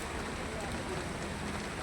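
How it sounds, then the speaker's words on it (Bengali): Heavy rain pours over a road near a bridge where e-rickshaws and other vehicles sit covered with tarpaulins, a dense unbroken hiss filling the short moment at low to moderate level. "বৃষ্টি পুরো পড়ছে"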